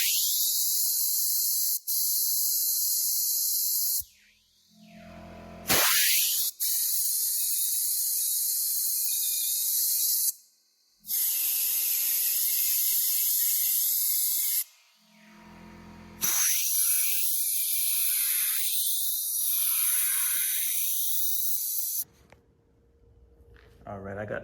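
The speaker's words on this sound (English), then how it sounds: "and blow through the jets." Compressed air blasts through the carburetor jets of a 2005 Honda CRF250R dirt bike, loud hissing bursts in several long spurts separated by short pauses, close to the mic with no talking.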